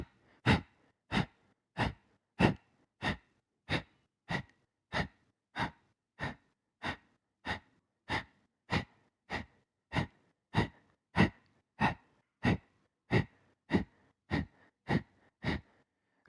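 Rhythmic yoga breathing exercise: forceful, sharp exhalations repeat about every 0.7 seconds in an even series of over twenty bursts, close and clear with quiet gaps between and no talking.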